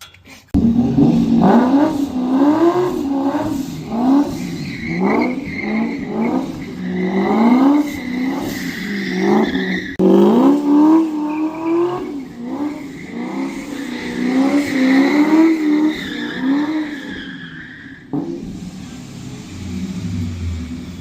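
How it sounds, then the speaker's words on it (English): A supercharged 1979 Ford F100 pickup with a swapped 4.6L Crown Vic V8 and independent rear suspension does donuts, its engine loud and close, revving and wavering continuously with tire squeal throughout before easing off near the end. "Thank you, Dex, for letting me rip some donuts."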